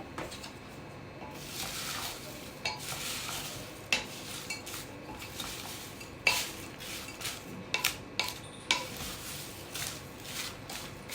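Papad chaat being mixed with sev in a bowl: soft, steady scraping and stirring with scattered light clinks of a spoon against the dish, fairly close and quiet.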